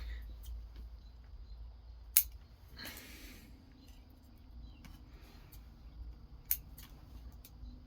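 Small scissors snip a Chinese elm bonsai in a quiet room, with two crisp, faint cuts a few seconds apart and some soft rustling between them.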